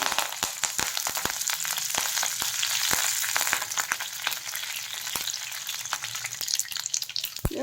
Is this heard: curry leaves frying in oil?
yes